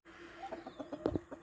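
Chickens cluck close by in a short burst of quick, clipped calls, with one louder squawk near the end.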